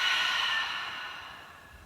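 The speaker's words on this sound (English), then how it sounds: "And then open mouth, exhale" A single open-mouthed exhale during a yoga breathing exercise, a soft airy breath heard up close that fades steadily over about two seconds, with no talking.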